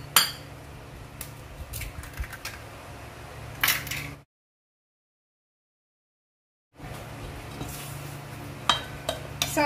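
Eggs cracked into brownie batter in a home kitchen: sharp taps and clicks against a bowl, close and fairly quiet, split by a stretch of silence in the middle.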